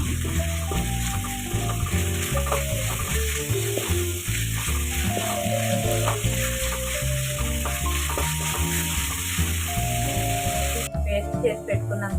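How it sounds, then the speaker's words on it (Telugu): Green chillies fry in a pan for a mutton curry, giving a constant bright sizzle. Background music plays throughout over the frying. "పచ్చిమిరపకాయ ఫ్రై చేసేస్తాను"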